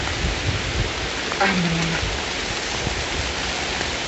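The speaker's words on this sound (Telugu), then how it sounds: "పట్టలేం కదా వర్షానికి ఇంత వర్షానికి" Heavy rain pours down in a dense, steady roar close by, with a brief voice heard faintly beneath it.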